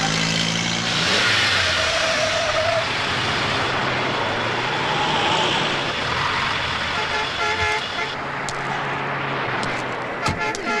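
A car pulling over to the roadside, its engine loud and close with a revving rise, a horn toot and general traffic noise continuing throughout.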